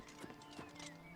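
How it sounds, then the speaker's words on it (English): Wild horses clip-clop in Oblivion Remastered, a few soft hoof thuds at an uneven walking pace under faint ambient game sound. "Are these wild horses?"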